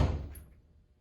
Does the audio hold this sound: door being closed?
yes